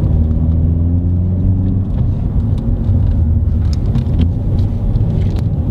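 A 2018 Hyundai i30N's engine drones steadily and loudly through a corner, a dense low rumble with a rising tonal note early on and no voices over it.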